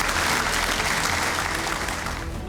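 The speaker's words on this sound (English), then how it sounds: "Give yourselves a round of applause." Graduates at a summer solar training program graduation in Illinois applaud steadily, a dense roar of clapping from a large crowd that holds even and loud for the whole stretch.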